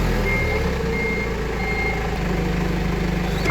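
A mini forklift sounds steady reversing beeps over a continuous engine drone, close by and fairly loud, with no talk.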